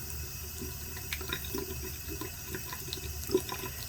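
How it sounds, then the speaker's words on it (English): Hot water runs and splashes over metal during a liver of sulfur patina, a steady close trickle with small splatters. "I'm going to hit it with some hot water"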